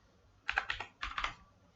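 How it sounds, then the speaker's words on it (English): Computer keyboard keys pressed while typing an email ID, two short clusters of quick, soft clicks, close and quiet. "you have to type again your email ID"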